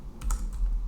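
A few quick keystrokes on a computer keyboard while coding a Django settings file, two or three close soft clicks in under a second.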